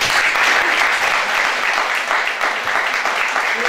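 Warm applause for boxer Nino La Rocca from a studio audience at a football television show: a dense, continuous wash of clapping, loud and close, with no pause.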